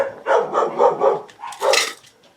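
A dog barking indoors during card-making, a quick run of four loud close barks followed by a higher, sharper yelp, with no talking.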